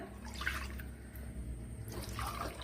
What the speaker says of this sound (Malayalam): അതിലാദ്യം നമ്മുടെ മുന്തിരിയുടെ ജ്യൂസ് ചേർത്ത് കൊടുക്കാം.